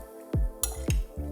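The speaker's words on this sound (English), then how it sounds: "So stir that together." A spoon stirs cherry-almond crisp filling made with vanilla extract in a bowl, giving three quick, close clinks against the dish spaced about half a second apart.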